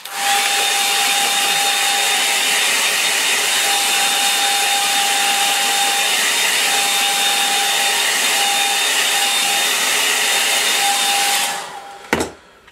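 A hair dryer blows steadily on a watercolour line-and-wash painting, a loud continuous whine with a fixed tone that runs for about eleven seconds before cutting off abruptly, followed by a brief clatter.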